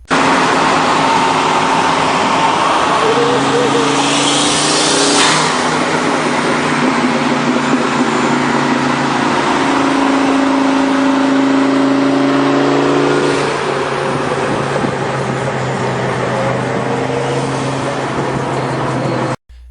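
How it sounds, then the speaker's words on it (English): A turbocharged Mustang engine revs and accelerates steadily, a rising turbo whistle riding above the mid-pitched engine drone, loud and close. "Listen to the turbo whistle as throttle is applied."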